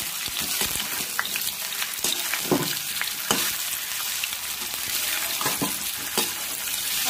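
Rice fara mixture roasting in a pan with no oil, a soft continuous sizzle broken by repeated scraping and knocking strokes of a spoon stirring it, close up.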